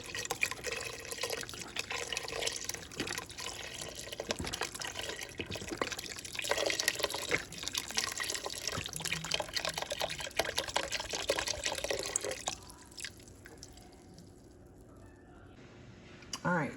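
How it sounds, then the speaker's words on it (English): Chicken stock, 48 ounces, pours steadily into a steaming soup pot for mushroom chicken soup, a continuous splashing liquid rush that thins out toward the end. "I'm going to go ahead and pour in 48 ounces of chicken stock"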